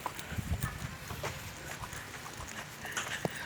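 Horses walking around a horse farm, with soft hoof clip-clops at close range, a few louder thumps in the first second, and low ambient rustle with no talk.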